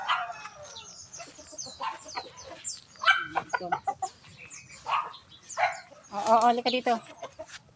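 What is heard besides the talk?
chickens at feeding time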